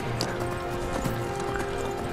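Horse hooves clip-clop in the video game Skyrim VR, a steady run of close, fairly loud hoofbeats continuing throughout over a busy game background.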